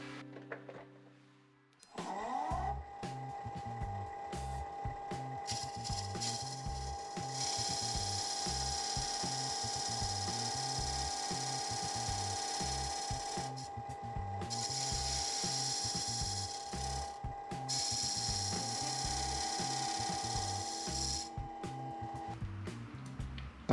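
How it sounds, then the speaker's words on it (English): A power sander works on a lidded wooden box of cherry and shedua, its whirring motor running steadily with a rapid rhythmic pulsing for about twenty seconds, loud and close, with no speech. "I'll just sand this off camera and be right back"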